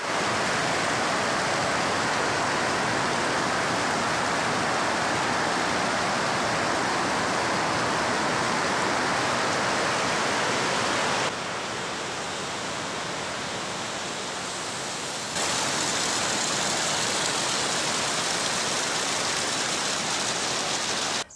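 Rainwater pours and runs down a rain gutter on an extended greenhouse roof, a loud, dense, unbroken rushing wash that dips slightly in level midway, with no voices.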